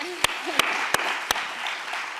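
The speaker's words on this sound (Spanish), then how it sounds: "vamos a aplaudirle a Nerea" Audience applause at a congress on migrant women in the Strait, a continuous round of clapping with four sharp louder claps standing out near the start, a voice heard briefly underneath.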